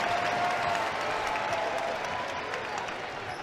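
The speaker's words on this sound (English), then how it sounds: "Crowd gets going when she makes a basket." A basketball crowd at a women's college game between San Francisco and Gonzaga cheers and applauds after a made basket, a loud, dense roar that stays steady and fades slightly toward the end.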